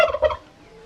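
A turkey gobbles at an outdoor race event: two quick, loud rattling gobble bursts close to the microphone, fading into a quiet background.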